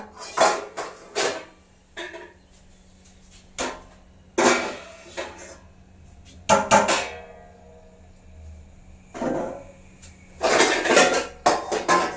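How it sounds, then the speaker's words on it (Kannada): Metal cooking pots and vessels clank and clatter in irregular bursts as they are set down and stacked in a home kitchen, with quiet pauses between the clusters. "ಪಾತ್ರೆ ಜೋಡಿಸ್ಕೋಬೇಕು, ನಾನು ಜೋಡಿಸ್ಕೋಬೇಕ."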